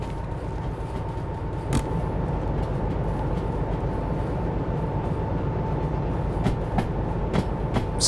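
A freight train in the Derail Valley simulator rolls along steadily with a constant loud rumble, a droning tone and occasional sharp clacks and clicks from the cars.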